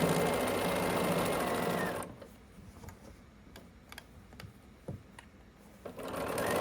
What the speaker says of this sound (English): hold it in place and start sewing down toward the next clip